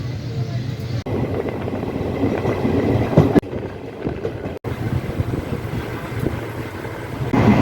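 Train pulling into Katwa Junction in West Bengal, a steady rumble of rail wheels with wind buffeting the microphone, loud and continuous from onboard, with a couple of brief jolts.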